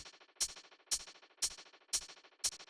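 A lone hi-hat ticks in an even, steady pattern, each hit trailed by repeating echoes that fade between strikes.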